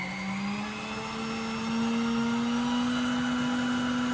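An electric hand mixer whips muffin batter on high speed, giving a steady, loud motor whine with a sustained hum that rises slightly in pitch partway through and holds without pause.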